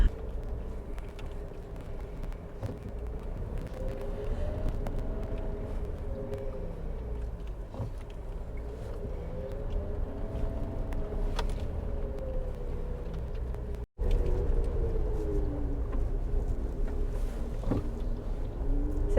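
Suzuki Jimny XL five-door creeping along an off-road track in low range, a steady close engine drone with gently rising and falling revs throughout, unbroken except for one brief dip near the end.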